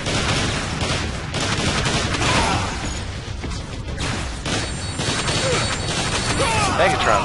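Rifle gunfire in the Transformers War for Cybertron video game: dense, loud bursts of rapid shots and impacts crackling without pause, mixed with game effects.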